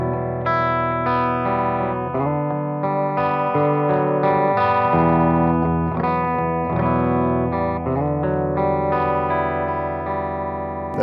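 Electric guitar chords ring out with a clean tone from a Tom Anderson Drop Top fitted with Railhammer Kyle Shutt signature pickups, notes sustaining and overlapping in a steady, full passage without talking.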